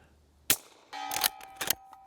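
A Henry Supreme lever-action rifle fires on an outdoor shooting range. A single sharp, fairly distant crack comes first, followed by a few fainter, scattered bursts and clatter.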